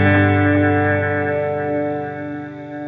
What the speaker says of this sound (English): It's very obvious on a delay pedal.